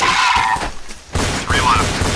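Gunfire in Counter-Strike: Source on the de_aztec map, with a short rattling burst of shots cutting in and out over game noise and a brief radio voice.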